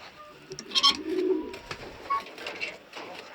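Soft pigeon coos and bird calls rise and fall over a few seconds against a quiet background, with faint rustling in between.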